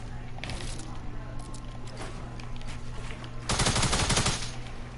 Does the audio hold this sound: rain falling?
no